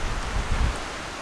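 Strong stormy wind roars outdoors around a Trangia T27 camp stove setup, a steady broadband rush with heavy low buffeting against the microphone and no voices.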